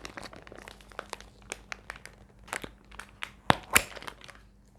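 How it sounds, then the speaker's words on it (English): A resealable packet of makeup remover wipes is peeled open, giving quiet, close crinkles and crunches with a few sharper tearing snaps near the end. "So this is a resealable packet. You have to open it from here."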